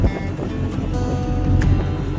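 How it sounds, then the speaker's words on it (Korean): Sea waves rock a fishing boat out of Ocheon harbor during a squid and octopus fishing trip, a loud continuous wash of water and wind noise with a low engine-like drone underneath. "파도가 이래"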